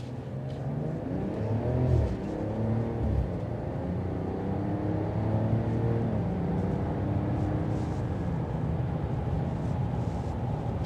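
A 2026 Ram 1500 Tungsten pickup truck driven aggressively in sport mode: a loud, continuous engine drone rising in pitch as it accelerates and shifts, heard from inside without talk.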